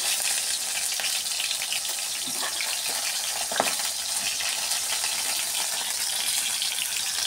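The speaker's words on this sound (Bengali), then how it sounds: "আমি এগুলোকে লাল লাল করে ভেজে নেব।" Thin water lily stems frying in hot oil, a steady broadband sizzle and crackle with a brief louder pop midway, continuous and close with no talking.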